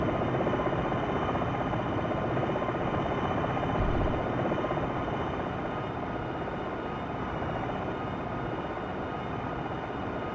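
A helicopter in Jane's Longbow Gold settles gently onto the ground, its dense, steady rotor and engine roar holding constant and loud throughout, with no talking.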